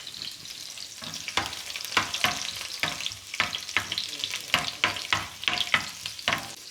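Green chilli fries in a pan for tomato chutney, a close, steady sizzle broken by repeated scraping stirs, with no talk.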